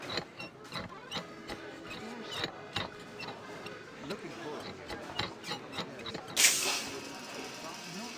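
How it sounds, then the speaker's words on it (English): An air intake mechanism in Syberia: The World Before runs with a steady, clock-like mechanical ticking, faint whirring underneath, and a short sharp hiss of air near the end. "This mechanism controls the air intake, if I remember correctly."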